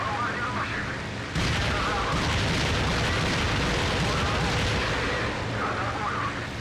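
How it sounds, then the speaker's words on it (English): Rockets fired at bombers in a flight simulator game, a sudden loud roaring burst that holds as a dense rumbling, crackling wash of launches and explosions over several seconds, with a speaking voice faintly underneath. "let's hit them with the rockets"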